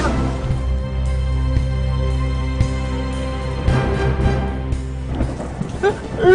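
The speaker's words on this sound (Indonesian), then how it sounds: "Mana hujan lagi." Heavy rain pours steadily during a storm with a deep rumble underneath, loud and continuous, with some faint background sounds near the end.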